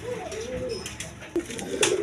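Giribaz pigeons coo softly in a loft, with a low rolling coo followed by a few faint flutters and bumps over a quiet background.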